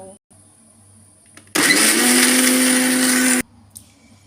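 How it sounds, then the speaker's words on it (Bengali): An electric blender whirs loudly and steadily for about two seconds while blending a chikoo (sapodilla) shake with its seeds, starting and stopping abruptly amid quiet kitchen handling sounds. "এবার ঢাকা লাগিয়ে ব্ল্যান্ড করে নেব"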